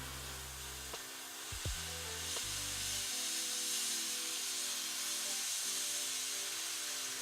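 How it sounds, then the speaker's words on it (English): An airbrush sprays paint onto a Games Workshop orc champion miniature, a faint steady airy hiss running throughout under a low electrical hum that shifts a few times. "when you airbrush, you can bring the airbrush back. It will spread."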